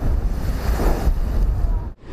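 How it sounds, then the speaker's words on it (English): Storm waves crashing onto sea walls, a heavy churning roar of surf buffeted by wind noise on the microphone, loud and close, dropping off abruptly near the end. "Wave after wave crashed onto the walls"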